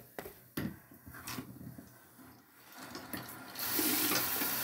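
A bathroom sink tap is turned on and runs with warm water, starting with a few close clicks and bumps from the handle, then a steady loud hiss of flowing water that fills the last second alone.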